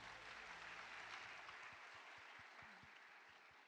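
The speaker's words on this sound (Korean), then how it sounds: "여러분 박수 부탁드리겠습니다." Applause from the audience at the 2025 Korean Popular Culture and Arts Awards ceremony, a steady dense clapping that lasts throughout and fades slightly toward the end, with no talk over it.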